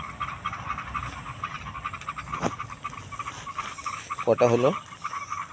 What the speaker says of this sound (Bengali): ব্যাঙের আওয়াজ পাওয়া যাচ্ছে বৃষ্টি হবে আজকে আবার